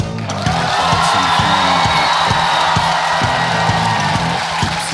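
A Ukrainian comedy show's studio audience applauds and cheers for jokes, a loud, continuous wash of clapping and whoops with rhythmic low thumps running beneath, close and full throughout.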